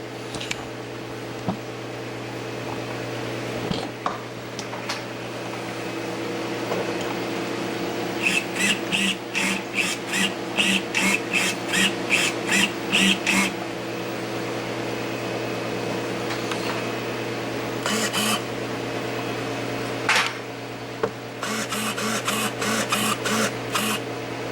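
An HPI Savage RC car motor whirs in repeated short throttle bursts, a rhythmic series of pulses over a steady background hum, close by.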